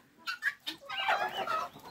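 A guinea fowl clucks close by on a farm: a few sharp separate clucks, then a louder, continuous chattering call.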